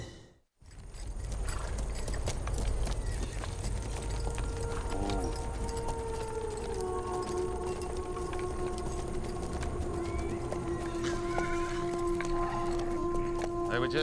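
Hoofbeats from horses running away drum steadily across the scene, mixed under a sustained tonal hum and scattered background noise, holding a fairly even loudness throughout.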